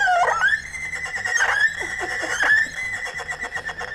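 An erhu imitates a horse's neigh with a bowed, whinnying slide that rises and then trembles. It is loud, close and solo, lasting about four seconds.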